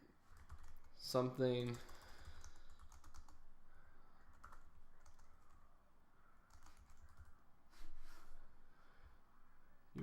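Short burst of keystrokes on a computer keyboard, a quick rattling cluster of clicks near the start, then quiet room tone with a few faint taps and a brief spoken word.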